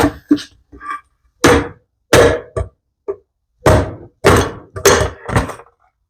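Around nine sharp metallic hammer blows knock a Saginaw power steering pump part free during a rebuild, at an uneven pace, close and loud, with brief silences between strikes.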